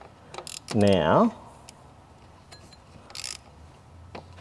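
Ratcheting wrench work tightening the water pump pulley bolts on a Chevrolet Cruze 1.8L engine, with a burst of rapid clicks and a squeaky spinning whir, then scattered lighter taps and clicks nearby; someone says one word.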